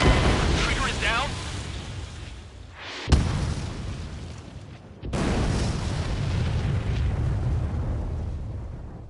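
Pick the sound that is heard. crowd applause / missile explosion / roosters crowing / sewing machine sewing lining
missile explosion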